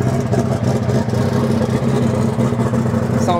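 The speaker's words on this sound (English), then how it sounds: "Sounds like a turbo machine." A loud, rumbling turbocharged Volvo 164 engine running steadily nearby at a street car event in Sweden, with a throbbing, uneven idle-like texture throughout.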